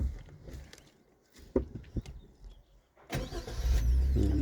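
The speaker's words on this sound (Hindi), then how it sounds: "चलिए क्लच दाबिए, स्टार्ट करिए।" A car engine cranks and catches during a driving lesson in Ranchi, after a few close clicks and knocks inside the cabin, then settles into a steady low idle.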